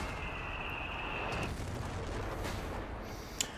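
A grenade explodes in the real-time strategy game Company of Heroes 3 during a tournament match. It comes as a broad, rumbling burst within continuous battle noise, with a sharp crack near the end.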